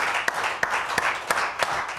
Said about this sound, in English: Give Him a hand clap this morning.